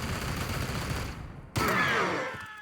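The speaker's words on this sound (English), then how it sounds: "Firing on target." Gunfire in the video game Warhammer 40k Chaos Gate: Daemonhunters, a dense sustained volley of loud rapid shots that cuts in sharply after a rumbling wash of noise.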